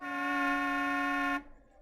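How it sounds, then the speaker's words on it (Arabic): A single long, steady car horn blast in an Arabic radio drama, loud and close for over a second before it cuts off abruptly into quiet. "زمارة مين دي اللي سورت لي وداني؟"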